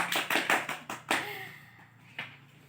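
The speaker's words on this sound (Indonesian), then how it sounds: "tepuk tangan dong untuk Dea." A classroom group claps briefly in applause for a student after a lesson, several quick bursts of clapping that fade within about two seconds, moderately close with a faint voice at the end.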